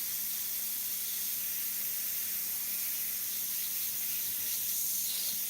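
An Iwata airbrush blows a steady, unbroken hiss of air to dry paint, loud and even from start to finish with a faint low hum beneath it.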